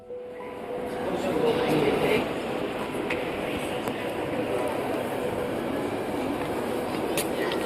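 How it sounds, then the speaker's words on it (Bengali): Trains running through Antwerp Central railway station, a broad steady rumble of rail traffic echoing in the large hall with faint clicks and background crowd noise. "মানে নিচ দিয়েও ট্রেন যায় আর উপর দিয়েও।"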